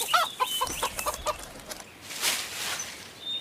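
Cartoon chickens cluck in a quick run of short, bright calls near the start, then a brief louder squawk later, with a thin background hiss.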